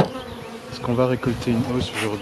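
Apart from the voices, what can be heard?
bees buzzing at the hive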